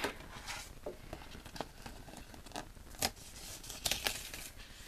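A Cricut machine cutting a paper cupcake layer: a series of faint, irregular scratchy swishes and ticks as the blade moves, with no talk.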